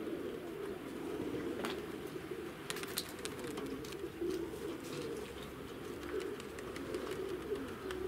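Pigeons cooing softly outdoors on a flock's loft or perch, steady low murmuring coos under faint chirps and ambient noise, fairly quiet and distant throughout.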